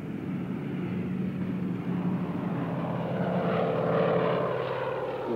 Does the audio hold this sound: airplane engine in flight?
yes